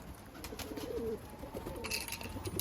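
Iraqi pigeons in a loft cooing softly, with low, rolling coos repeating at a steady pace against a busy background hum, and no talking.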